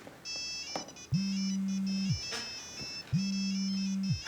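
A phone ringtone plays repeatedly, a bright electronic melody alternating with a steady low tone in two rhythmic bursts, fairly loud and near, with no talking over it.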